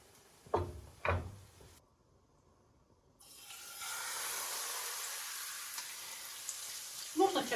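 Zucchini pancake batter frying in a pan over moderate heat, a broad steady sizzle that swells in and holds after a couple of brief clattering knocks and a short silence, with another clink near the end.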